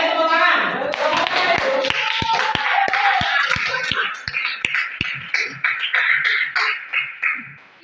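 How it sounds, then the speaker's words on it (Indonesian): A classroom bursts into applause, starting as a rhythmic unison clap under voices and then thinning into scattered, fading claps and chatter. "Tepuk tangan."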